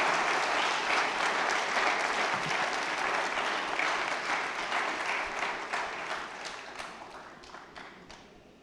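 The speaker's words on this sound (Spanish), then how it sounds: "Pero fuerte ese aplauso al Espíritu de Dios" A congregation at a church service claps in a dense, loud wave of applause that holds steady and then slowly thins and fades toward the end.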